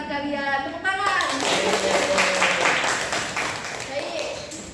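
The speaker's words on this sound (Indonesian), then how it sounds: "Tepuk tangan." Children in a classroom clapping their hands together, a burst of quick, lively claps right after a teacher's voice, fading out as the room settles.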